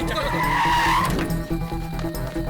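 A car brakes hard, its tires squealing loudly in a rising screech for about a second before it skids to a stop and the engine settles into a low idle, alone in a Hindi film scene.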